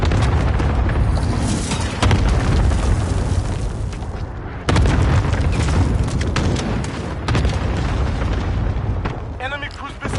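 Cluster strike explosions in Call of Duty: Modern Warfare hit in heavy, overlapping booms across the whole stretch, with a sharp fresh blast about halfway through. Faint voices are buried in the din.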